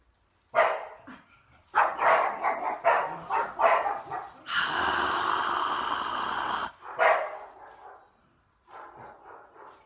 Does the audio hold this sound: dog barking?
yes